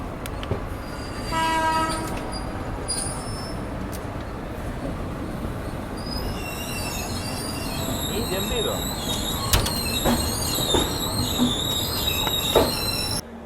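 Passenger AC express train arriving at a station, a steady rumbling roll with a horn blast early on, then squealing wheels and clanks as it slows, loud and near.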